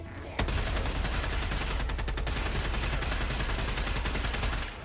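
Rapid automatic gunfire in the game Warframe, a dense sustained burst of shots that runs nearly the whole time, loud and steady with no talk.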